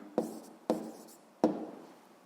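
Pen strokes on paper as an answer is written by hand in a quiet room, three distinct scratchy bursts at regular intervals, each fading quickly.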